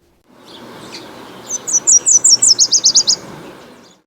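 A MacGillivray's warbler sings a rapid series of about a dozen bright, high chirping notes in a quick rhythmic run, clear and close over a faint hiss of background noise.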